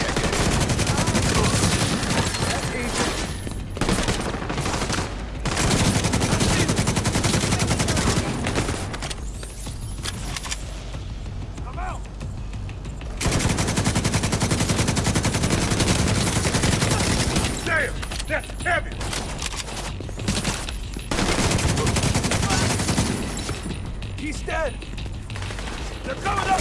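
Heavy bursts of automatic gunfire in The Division 2's Manhunt mode, loud and sustained in several long volleys with brief lulls between them, while a voice shouts over the shooting.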